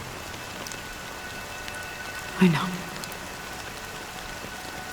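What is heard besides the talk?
rain falling in the video game Honkai: Star Rail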